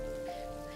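Rain falling on broad taro leaves, a short steady patter of drops with no voices.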